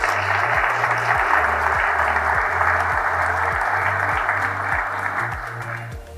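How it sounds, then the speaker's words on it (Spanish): An audience at an international motivational conference applauds steadily for several seconds over a low, rhythmic background tone, fading slightly near the end. "Un aplauso para ellos también."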